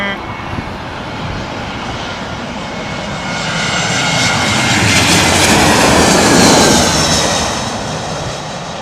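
An Air Algiers airliner arriving over the top, its engine roar loud and continuous, swelling to a peak as it passes close overhead and then easing slightly.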